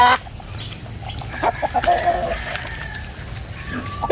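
A Rhode Island Red rooster crows once mid-clip, fairly close, among scattered clucks and farmyard noise.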